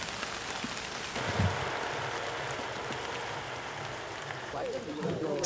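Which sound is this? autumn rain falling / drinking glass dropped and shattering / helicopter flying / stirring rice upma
autumn rain falling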